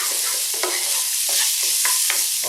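Steak fried rice with edamame stirred in a sizzling pan, a loud continuous frying hiss broken by several scraping strokes of the utensil at irregular intervals.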